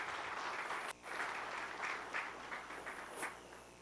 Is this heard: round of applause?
yes